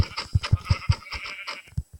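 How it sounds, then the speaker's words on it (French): Sheep in Minecraft bleat in a quick series of short, close, loud calls, an even rhythm of six or seven bursts with a brief pause before the last two. "regardez on commence, il y a des moutons"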